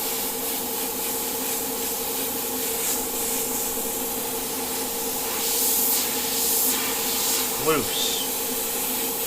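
An airbrush hisses steadily as it sprays paint across a tiki painting, a continuous close airy spray running under a person's loose, instructive talk, with a brief brighter burst late on.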